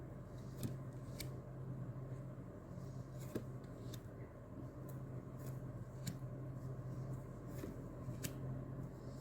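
Tarot cards being shuffled, a soft repeated riffling and flicking with faint sharp ticks at irregular intervals over a steady low hum, close and quiet, no one speaking.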